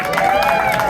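A stand-up comedy audience breaks into applause and clapping, a loud, dense burst of hands with some cheering voices mixed in, lasting about a second.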